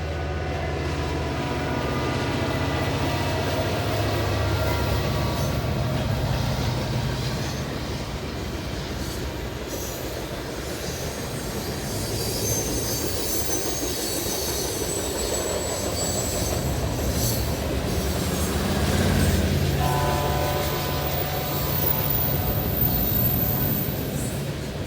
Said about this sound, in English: This particular locomotive used to be an SD40-2, but it now has a V12 EMD 710 prime mover.